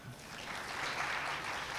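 Audience applause at an educators' forum in Tulsa, Oklahoma: a soft, moderately dense patter of clapping that swells slightly and holds steady for under two seconds, heard from a distance in a hall.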